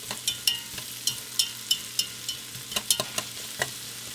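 A whisk clicks repeatedly against a pot as ingredients for a creamy low-sodium pea soup are stirred together, with quick irregular taps over a soft background sizzle.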